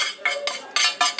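A spoon scrapes crumbly biscuit base out of a pan in short, repeated metallic strokes, about five quick scrapes close up with brief pauses between them.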